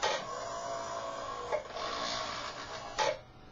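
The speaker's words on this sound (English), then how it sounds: "A motor moves the IGUS assembly back and forth to move the segments." An electric motor drives an IGUS bearing assembly back and forth beneath a chair seat, giving a steady mechanical whir with two brief clunks as the travel reverses, near and moderately loud with no talking.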